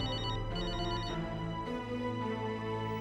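A mobile phone plays a bright, electronic melodic ringtone continuously at moderate volume, its repeating tones sounding alone with no voices.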